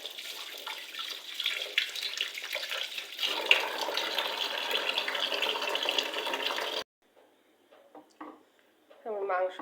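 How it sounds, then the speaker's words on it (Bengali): Water is poured into a pot of beef being cooked by hand. A steady, moderately loud splashing rush runs for several seconds, then stops abruptly, and a voice follows near the end. "আমি মাংসটা সিদ্ধ হইতে যতটা পানি লাগে ঠিক ততটা পানি অ্যাড করলাম।"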